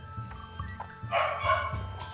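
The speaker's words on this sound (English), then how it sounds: "I don't know if you guys can hear that, but my dog's barking." A beagle barks in short, quiet bursts in the background, a few yips spaced across a couple of seconds with no talk over them.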